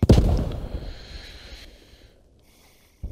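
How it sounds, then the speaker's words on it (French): A single heavy artillery impact booms close and loud in the World War II shooter Post Scriptum, set at Pegasus Bridge in Normandy, its rumble trailing off over a few seconds before another sharp thud. "Artillerie. Pas une grenade."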